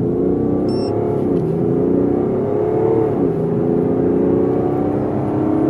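A BMW G31 530xd Touring diesel launches hard from 3000 rpm, a loud steady engine roar with rising pitch, a brief dip at a gear change, then pulling on, close and continuous without talk.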